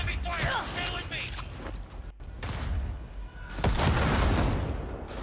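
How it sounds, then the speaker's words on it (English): Gunfire and explosions in the Cyberpunk 2077 video game while driving around Night City, with dense bursts of shots and heavy booms layered over speech, growing louder near the end. "Under heavy fire."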